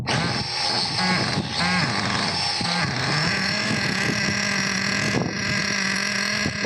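Model glow engine running steadily during a Tessmann break-in, a loud continuous buzzing whine that wavers slightly in pitch as the throttle shifts, close and alone.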